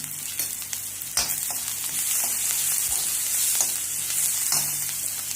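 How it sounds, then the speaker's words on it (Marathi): Curry leaves and onion frying in a pan with mustard seeds and cumin, a loud steady sizzle with occasional scraping stir strokes, close and alone without talk. "कढीलिंब, कांदा आणि चांगलं भाजायचं."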